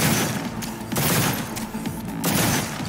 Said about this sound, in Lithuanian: Labai keista šitas ginklas šaudo.